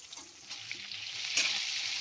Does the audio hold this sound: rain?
no